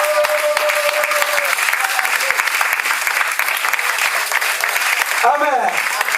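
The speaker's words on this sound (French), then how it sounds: "Acclamez pour le Seigneur encore." A church congregation claps steadily and loudly through a worship service, a dense continuous wall of applause with a voice heard over it and a brief sung or spoken swell near the end.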